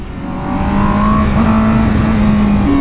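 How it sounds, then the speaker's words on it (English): A superbike engine revs hard in first gear on the road, a loud, close, steady high-pitched howl that climbs and holds with a rising tone, no voices over it. "It needs revving past 7 grand, really, at least."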